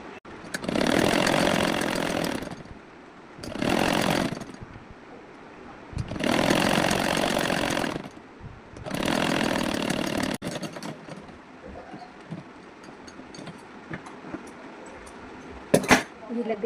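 A sewing machine runs in four separate bursts of steady motor whir while it stitches a folded strip onto the round neck of a blouse. Each run lasts one to two seconds, with short quiet pauses between them.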